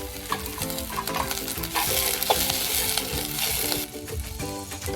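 Green chillies hit a pan of sautéed, lightly browned onion and fry with a loud, steady sizzle, broken by scraping stirs, close up and with no talking.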